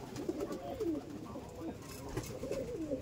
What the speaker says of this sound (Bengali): এই দেখুন পায়রা দেখুন